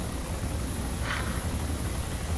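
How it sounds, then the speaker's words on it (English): Chinook helicopter in the Arma II game, a steady rotor drone running throughout at constant loudness with a brief higher whoosh passing midway. "I like how that Chinook just landed on that guy."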